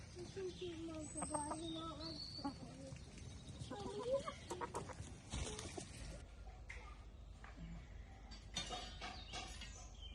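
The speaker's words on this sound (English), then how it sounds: "Good morning, chickens." Chickens cluck and call around a farmyard in the morning, a rooster-like crow rising among them, with a person's voice speaking intermittently over the birds and steady outdoor background noise.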